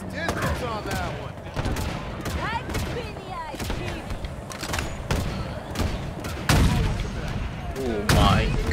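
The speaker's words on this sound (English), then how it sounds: "I hear them shooting" Gunfire from Halo Infinite bursts in sharp, repeated shots and rapid volleys with occasional heavier thuds, loud and irregular, while game voices talk over the action.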